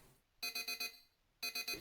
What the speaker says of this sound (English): The typical sound of your alarm blaring slowly got your consciousness back.